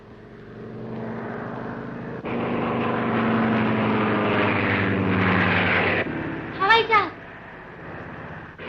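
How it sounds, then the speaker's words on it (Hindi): A propeller airplane circling overhead in a village scene from a 1951 film, a steady droning engine roar that swells and holds, with a brief chirping sound near the end and voices around it. "अरे हवाई जहाज चक्कर क्यों काट रहा है?"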